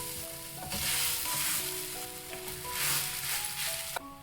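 Masala and mashed potato sizzle steadily in a hot pan over a medium flame, with a constant frying hiss and occasional scrapes of a spoon stirring.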